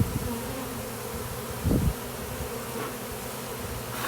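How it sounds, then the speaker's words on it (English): Honeybees fanning at a hive entrance during the hiving of a split, a steady low buzzing hum close by with a brief louder swell midway. "They'll mark their entrance by sticking their butts up in the air and wiggling, fanning"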